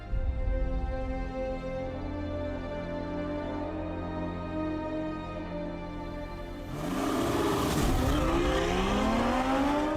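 A Ferrari 812 Superfast's V12 engine, rated at 800 horsepower, holds a steady loud drone, then surges into a higher, rising rev as the car accelerates hard, the pitch climbing in the closing seconds.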